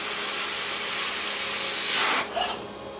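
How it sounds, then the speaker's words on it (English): A sanding robot working along the edges of a door: a continuous close, dense abrasive hiss that swells briefly, then cuts back to a thinner whir. "we sanded all 4 edges and the face of the door"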